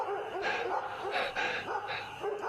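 Several dogs bark and yip repeatedly at night in loud, irregular bursts, some howl-like, close by and without talk.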